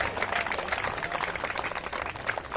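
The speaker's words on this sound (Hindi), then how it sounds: "ताली बजते रहना चाहिए, लगातार ताली से स्वागत करेंगे।" Audience at a Chitragupta Puja cultural program in Asi Bangarhatta applauds steadily, a dense, continuous wash of clapping at moderate level throughout, with no clear pauses.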